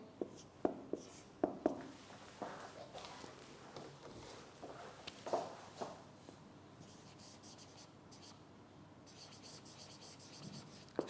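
Chalk or a pen writing on a board in a lecture room, with scattered taps and scratchy strokes in irregular bursts, faint and somewhat distant.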